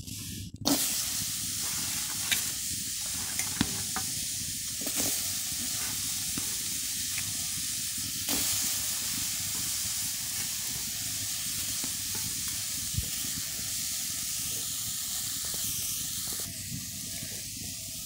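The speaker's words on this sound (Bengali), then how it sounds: "এবার আমি পুঁইগুলোকে সিদ্ধ হতে দেবো।" Malabar spinach (pui shak) boils and steams in a pot with a steady, continuous hiss and soft bubbling, moderately quiet, with a few faint ticks and no voices.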